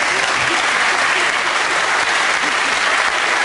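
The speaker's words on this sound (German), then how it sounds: "Ja, nochmal Applaus." Studio audience applauds steadily on a German sports television show, dense and sustained clapping filling the whole stretch without pause.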